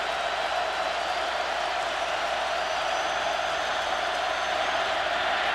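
A Tennessee versus Georgia college football stadium crowd in 2008 roars as a steady, dense wall of cheering and applause, loud and unbroken throughout.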